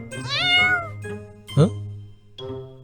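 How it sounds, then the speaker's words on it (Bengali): A cartoon cat gives a few short, clear meows, alone and close, with brief pauses between the calls. "আরে, বিড়াল নাকি?"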